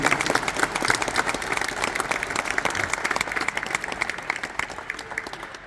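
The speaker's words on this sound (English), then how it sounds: "let's give them a round of applause" Sustained applause from a crowd at a Mercer men's basketball coach introduction, dense steady clapping throughout that gradually thins toward the end.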